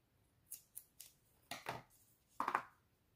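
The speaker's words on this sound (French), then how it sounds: "Les ciseaux." Several crisp snips of scissors cutting paper, three quick light cuts followed by a couple of heavier crunchy snips, close and fairly quiet.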